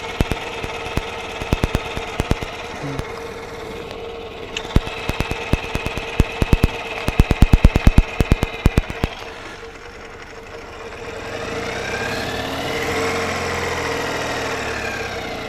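A Ural motorcycle engine runs close by with a steady mid-range idle and rapid mechanical knocking, its rhythm speeding up and slowing as it is put through reverse gear, before settling into a smoother, louder drone near the end.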